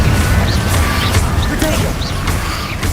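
Confringo, the explosive spell in the Hogwarts Legacy video game, lands in loud, repeated crashing blasts over a rumbling, busy battle backdrop with no talk.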